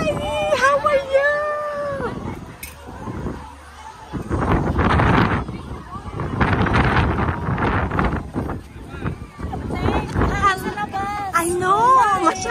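Gusty wind buffets the microphone in loud rumbling bursts while people chat and greet each other over it at an outdoor Santacruzan gathering at a church in Arizona.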